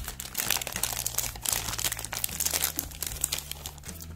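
Crinkly protective plastic packaging around an Ambre Solaire sun oil bottle being handled and opened, a close, continuous crackling and crunching with irregular bursts, with no talking.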